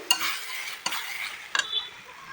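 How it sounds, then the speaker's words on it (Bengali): Prawn curry masala with potatoes being stirred and sautéed in a pan, three distinct scraping strokes of a spoon over a soft steady sizzle, close and without talk. "এখানে কষানো হয়ে যাচ্ছে, আর একটু সময় আমি কষাবো সুন্দর করে।"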